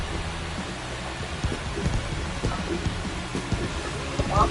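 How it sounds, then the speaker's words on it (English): Steady rain falling on a ballpark during a baseball game broadcast, a dense, continuous hiss with scattered low rumbles and crowd-like murmur underneath. "How long has it been raining?"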